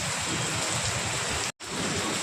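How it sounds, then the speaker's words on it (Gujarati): Steady dense rain pouring down with a constant broadband hiss, briefly cutting out for a moment before resuming. "તો કેટલો બધો વરસાદ પડે છે"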